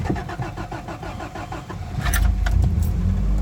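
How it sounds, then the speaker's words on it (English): A 1986 Toyota Corolla SR5 AE86 engine turns over briefly with rhythmic cranking, then catches and settles into a steady, close, loud idle rumble with no talking. "No choke on this thing. Cranks up, no problem."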